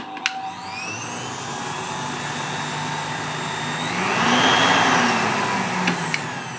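An Electrolux 2020 Superboost Electronic vacuum cleaner motor runs close by with a loud, steady whine and rush of air, its pitch swelling briefly midway before settling. No one speaks.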